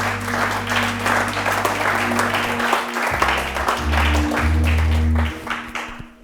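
A church congregation breaks into sustained applause, a loud dense wash of clapping lasting several seconds before it tapers off, with a low hum and murmur of voices underneath.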